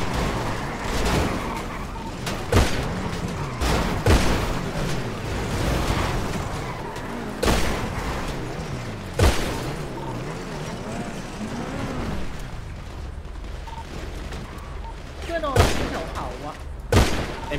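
Rapid gunfire from a shootout in GTA Star Town roleplay crackles in repeated bursts and sharp shots over a steady rumble, with engine noise and players talking throughout.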